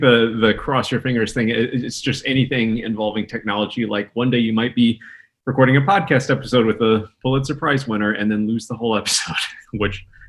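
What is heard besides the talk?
No everyday noise stands out behind the speech.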